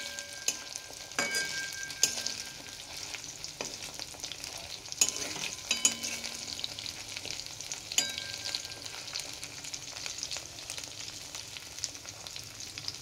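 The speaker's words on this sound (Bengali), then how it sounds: "এরপর কড়ায় তেলটা গরম করে এগুলোকে একটু ভেজে নিতে হবে।" Marinated soybean chunks, seasoned with pepper and salt, fry in hot oil in a wok for chilli soybean, giving a steady close sizzle broken by occasional scraping stirs and clinks, with no voices.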